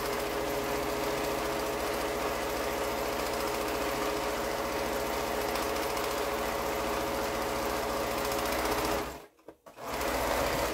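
A sewing machine stitching a plain straight quilt seam runs steadily and loudly with an even rapid mechanical chatter, stopping briefly near the end before starting again.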